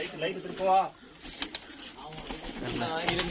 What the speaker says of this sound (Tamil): அதில் ஏகப்பட்ட வகையான புறாக்கள் ஃபுல்லுமே இருக்குது